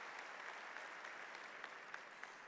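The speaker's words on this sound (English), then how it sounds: "Let's once again give them all a round of applause for being the true champions in supplier diversity." Banquet guests at an awards dinner give award nominees a sustained round of applause, an even wash of many hands clapping, soft and somewhat distant in a large room.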